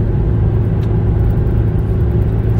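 A 2007 Infiniti M35 Sport on a highway gives off a steady, loud engine and road rumble from inside the cabin, holding level throughout with no talking.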